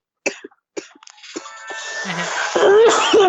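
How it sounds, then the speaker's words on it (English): A burst of harsh, heavy coughing, several rough hacks building into a wheezy, strained fit close to the listener. "I got into a heavy cough."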